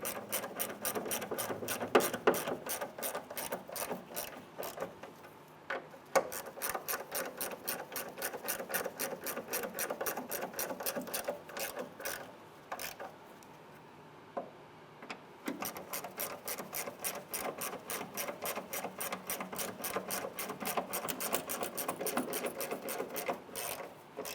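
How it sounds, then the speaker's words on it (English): A hand ratchet with a 15mm socket snugs the upper strut mount nuts on a 2011-2016 Hyundai Elantra, giving long runs of rapid, steady clicking that pause briefly and resume, close and clear with no talk. "With a 15mm socket, we'll snug these up."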